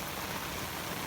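A brief stretch of steady rain near a house and fence, a soft even hiss of drops on surfaces with no voices.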